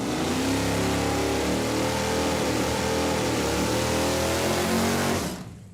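Pontiac Firebird with a 540-cubic-inch engine and big race slick doing a burnout, a loud sustained rev that holds for about five seconds and then cuts off.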